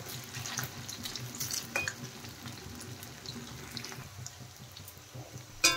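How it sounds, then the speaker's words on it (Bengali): Cauliflower florets for crispy Manchurian fry in hot oil with a steady, bubbly sizzle, joined by occasional soft stirs and a sharp clink at the end. "এখন একটু নেড়ে দেব, আর নেড়ে চেড়ে কিন্তু ফুলকপিগুলো লাল লাল করে ভেজে নিতে হবে"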